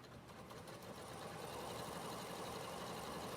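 A sewing machine stitches binding onto a fabric pillow pocket with a fast, steady, faint mechanical whir, running alone without talk.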